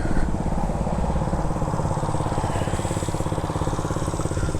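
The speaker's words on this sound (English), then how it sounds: "It's that performance exhaust I was talking about." A 2021 Icebear Maddog motorcycle with a performance exhaust idles close by, giving a steady, rapid, throbbing burble that stays loud and even throughout with no voices.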